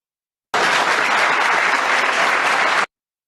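Steady, dense applause from a theatre audience at a Ferhan Şensoy stage show, loud and uniform, beginning abruptly and cutting off cleanly after about two seconds, with no voices over it.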